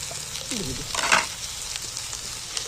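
Cut and rinsed potato pieces go into hot oil, giving a soft crackling sizzle with a brief burst of stirring, faint and close, with no talk.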